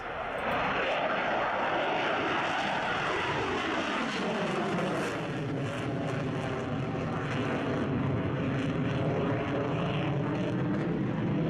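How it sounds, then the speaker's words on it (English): A Royal Danish Air Force F-16AM Fighting Falcon of 727 Squadron touches down, a loud, steady broadband jet roar that fills the whole stretch without a break, with a slowly shifting tone as it passes. "touching down, Captain Troels Deli of 727 Squadron, Royal Danish Air Force with the F-16AM Fighting Falcon"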